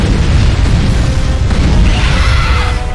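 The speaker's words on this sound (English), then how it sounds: "Explosions tend to do a lot of damage." An explosion in the monster-brawling video game War of the Monsters, a loud, dense roaring blast with rumbling low end that fills the whole stretch, with no talk over it.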